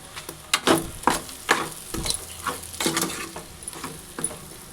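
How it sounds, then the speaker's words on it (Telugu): Mutton boti pieces frying in a pan for a crispy fry, close sizzling broken by repeated stirring scrapes and soft clatters against the pan, busy and irregular. "ఫ్రై చేద్దాం."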